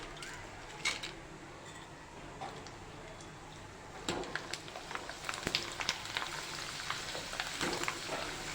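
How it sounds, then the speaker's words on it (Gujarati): Potato wafers deep-frying in hot oil, a continuous bubbling sizzle with scattered crackles and clicks that grow busier partway through, heard close with no talking. "તો એવી જ રીતે આપણે બીજી વેફર પણ તળી લઈએ."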